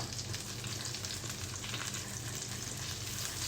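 Chopped garlic frying in melted butter on a very low flame for chicken macaroni white sauce pasta, a close steady crackling sizzle that continues evenly throughout without any voices.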